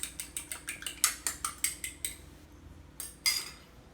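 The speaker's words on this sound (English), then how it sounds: "I'm just going to mix this up." A spoon clinks rhythmically against a bowl while manicotti filling is mixed by hand, about a dozen quick, close taps in steady succession, then a pause and a couple of louder knocks, with no talking.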